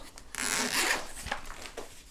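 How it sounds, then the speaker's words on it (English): A zipper on a Mokwheel ebike accessory bag is pulled open in one continuous rasping run, then a few shorter tugs, close up and fairly quiet with no talking. "It has this bag with the zipper."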